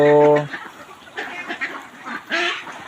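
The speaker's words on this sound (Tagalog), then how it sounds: "So kalmado na po yung mga alagang itik natin kasi mayroon na silang maapakan na lupa." Domestic ducks on a farm, kept after floodwaters, give a loud nasal quack at the start, then softer scattered calls and rustling, with another burst of quacking near the end.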